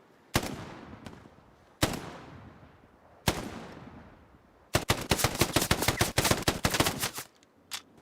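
BAR rifle fire in Hell Let Loose: three single booming shots, each well spaced with a lingering echo, then a long rapid automatic burst of about two and a half seconds, followed by one more faint shot.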